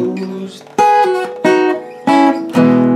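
An electric guitar plays a short fill of several sharply picked, ringing notes and chords in an uneven rhythm, loud and up close, with no voice.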